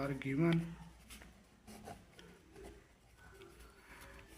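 A pen scratches steadily across paper while a math solution is worked out, with someone talking over the soft writing throughout.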